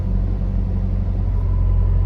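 A Nissan S13 with an SR20 engine idles after a restart, giving a steady low rumble heard up close with no voices.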